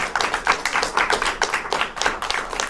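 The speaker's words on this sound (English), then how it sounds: "Let's all give one giant round of applause." Audience applause closing an interview, a steady patter of many hands clapping throughout with brief swells, fairly close and continuous.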